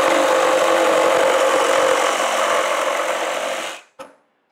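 Ryobi ONE+ 18V brushless compact one-handed reciprocating saw cutting, a loud close steady buzz for almost four seconds that cuts off abruptly, followed by one short knock.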